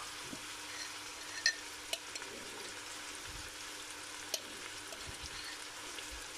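Whole onions drop into a hot pan for potato goulash and sizzle quietly and steadily, with a few sharp clicks and light knocks over the hiss and no talking.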